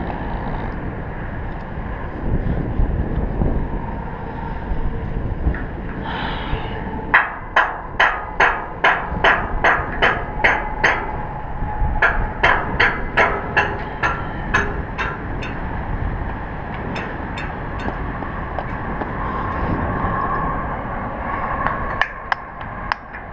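A hammer strikes bolts to loosen them on a leg section, ringing out in a long run of sharp, evenly spaced metallic blows over a steady mechanical hum.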